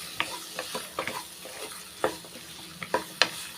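Onion and tomato with salt are sautéed for a chutney, with a soft continuous sizzle under a series of sharp spatula scrapes and taps against the pan, spaced irregularly.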